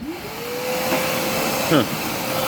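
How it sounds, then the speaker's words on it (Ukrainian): Bosch GAS 12-25PL construction vacuum cleaner running with a steady broad airy whoosh and a faint whine, close and continuous, with a brief clunk partway through. "От ти пилососиш"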